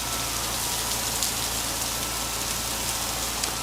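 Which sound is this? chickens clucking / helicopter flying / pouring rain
pouring rain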